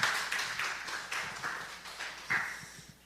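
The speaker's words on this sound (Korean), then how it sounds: "모두에게 한 박수 하겠습니다." During an afternoon worship service, a church congregation gives a short, loose round of claps: a handful of uneven, slightly distant bursts over about three seconds.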